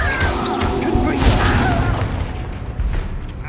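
Confringo fire spells burst in Hogwarts Legacy combat. Loud, rumbling explosions and crashes pile up continuously over battle noise, with a voice shouting along.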